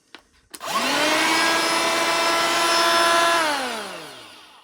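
A click, then a BAUER 20V cordless 3-1/4 in. electric planer motor whirs up to a steady high whine, holds for a few seconds, and winds down.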